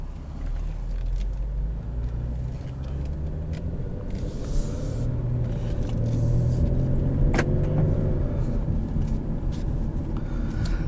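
A 2015 Infiniti Q40 with 77,000 miles is driven, its steady low road rumble and engine drone heard from inside the cabin, rising slightly in loudness toward the end.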